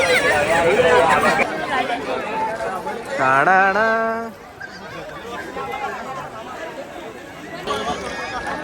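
Crowd chatter fills the Mhasa Yatra fair, the biggest village fair in Thane district, a dense babble of many voices with a tonal call or horn cutting through midway before the hubbub thins to a softer background murmur.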